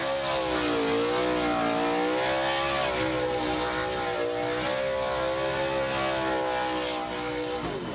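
A Pro 2 off-road race truck does victory donuts after a CORR off-road race, its engine roaring loud and continuous while the revs swing up and down in waves.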